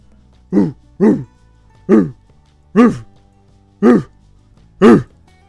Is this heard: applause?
no